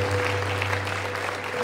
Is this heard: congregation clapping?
yes